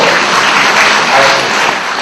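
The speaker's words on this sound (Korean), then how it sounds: "큰 박수로." Loud, dense burst of audience applause at a Korean event closing ceremony, many hands clapping together in a thick continuous wash that swells and then eases slightly toward the end.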